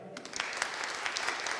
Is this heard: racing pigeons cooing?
no